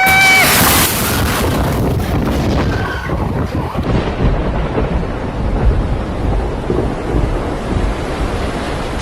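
A thunderstorm with heavy rain in Türkiye's Dalaman area: a loud thunder crack opens, then dense rain pours and roars on with gusty wind buffeting the microphone.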